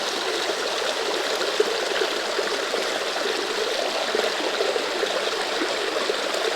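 Creek water flows steadily by a grassy creek bank, a continuous close rushing and trickling wash with no pauses and no voices.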